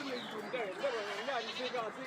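A black male goat bleats repeatedly at a busy festival livestock market in Kerala, its wavering cries rising over a steady crowd of voices talking nearby.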